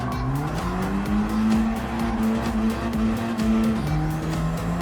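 A Hyundai Elantra N racing in Gran Turismo 7, its engine note loud and close as it revs up under full throttle, shifts, and climbs again, with faint tire noise underneath.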